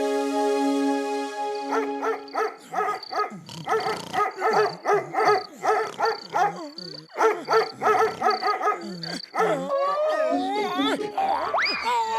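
Cartoon dog barking repeatedly in rhythmic bursts over a background music cue, with whimpering, squeaky yelps near the end, loud and close.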